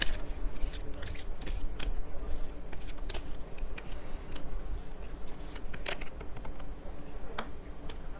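Message cards being shuffled and drawn by hand, a run of close, crisp paper flicks and taps with brief pauses, no speech.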